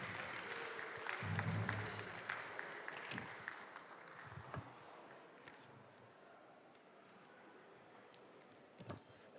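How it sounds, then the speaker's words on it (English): Audience applause fills a Ghana Civil Service Week awards night ceremony, a steady wash of clapping that swells early and slowly thins out over several seconds, with no voice over it. "Big round of applause."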